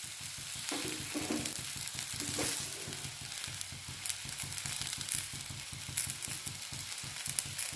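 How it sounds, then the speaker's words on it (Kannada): A dosa cooking on a hot pan after flipping, with oil dabbed on top, making a continuous close sizzle and crackle with rapid fine spattering and a few brief louder hisses. "ಇವಾಗ ಇದನ್ನು ತಿರುವಿ ಹಾಕ್ಕೊಂಡು ಈ ಕಡೆನೂ ಕೂಡ ಸ್ವಲ್ಪ ಬೇಯಿಸ್ಕೊಂಡ್ರೆ ಆಯಿತು."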